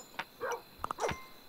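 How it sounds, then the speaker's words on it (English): A dog barking in the video game Kingdom Two Crowns, several short, fairly faint yips and barks in quick succession. "The dog has been barking at them for like 5 minutes"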